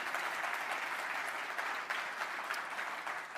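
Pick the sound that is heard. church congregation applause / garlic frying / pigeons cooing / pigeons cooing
church congregation applause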